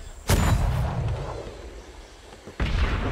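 Two heavy booms from a cannon firing a cannonball during a raid in the game Atlas, one right at the start and another near the end, each loud and close with a rumbling tail between them.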